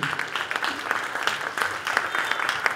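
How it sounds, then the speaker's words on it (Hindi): Audience clapping at a community cultural event, a continuous, moderately loud patter of many hands with slight swells in intensity over a few seconds. "Also Indian association of Minnesota के लिए भी तालियां बजाइए मीना भारती।"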